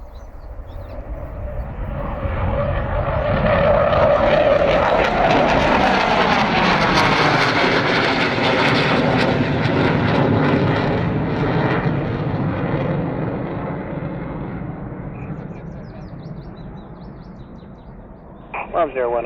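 An RAF Tornado GR4 jet takes off from the runway at RAF Aldergrove in Northern Ireland, its engine roar swelling into a loud, broad rumble that peaks, holds for several seconds and then slowly fades as the aircraft climbs away.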